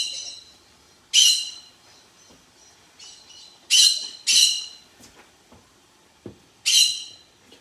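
Charlie, a pet bird, gives four loud piercing squawks at irregular intervals, sharp and close, with faint thumps and small noises in the quiet gaps between them.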